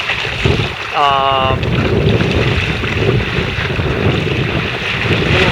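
Wind buffets a small sailing boat at sea, a steady, loud roaring rush across the microphone with water noise beneath, while a voice briefly speaks near the start.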